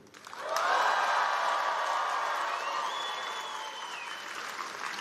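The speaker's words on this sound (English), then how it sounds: "I want a massive cheer from all of you, louder than the last one" A graduation ceremony audience at Salford Business School breaks into a loud, sustained cheer with applause and whoops, swelling quickly and holding steady for several seconds in a large hall.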